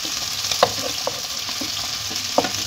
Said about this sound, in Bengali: চিকেনটাকে আমি ফ্রাই করে নেব ভালোভাবে।